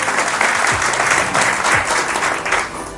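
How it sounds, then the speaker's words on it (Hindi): An audience at a business meeting applauds loudly for a mentor, a thick, sustained burst of clapping that fades slightly toward the end, with a few low thumps mixed in. "एक बार जोरदार तालियां सर के लिए हो जाए।"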